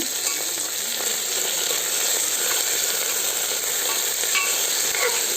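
Garlic and tomatoes fry in a pan for a pulihora-style dish, a steady, close hiss and sizzle that holds without a break, with faint stirring scrapes underneath and no talking.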